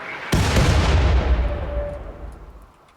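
One loud mortar shot in RimWorld lands as a sharp booming blast, then rumbles and fades over a couple of seconds, with no talk.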